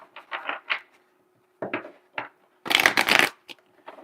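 Tarot cards are shuffled in bursts: several quick riffles, a pause, two short shuffles, then a louder sustained bridge-like riffle and a few final taps, close and crisp with no talk.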